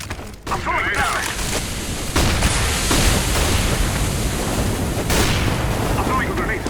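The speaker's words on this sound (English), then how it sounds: "Deploying flashbang. I'm throwing flashbang." A loud, dense blast of noise from a CS:GO match keeps roaring throughout, with sharper surges near the middle and the end, much like a flashbang's bang and ringing in a busy round of gunfire.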